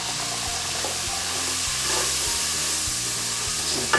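Onions, celery and garlic sweating in a pot for clam chowder, giving a soft, steady frying hiss that holds evenly throughout, close by and without talk.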